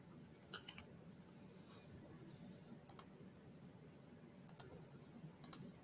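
Faint computer mouse clicks, a few isolated taps scattered over a quiet room hiss, soft and close, with low murmuring in the background.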